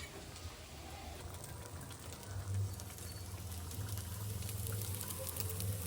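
Rajma simmering in a pot on a home stove, a soft continuous bubbling patter with a low rumble that grows a little stronger toward the end, no talking.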